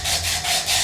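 Sandpaper rubbed against a ceramic cup, rhythmic gritty scraping strokes, about three back-and-forth passes in under a second, close and loud.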